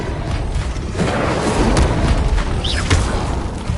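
An Incendio fire spell blast in Hogwarts Legacy: loud, continuous booming, roaring bursts with thuds and crackling, one after another over a few seconds.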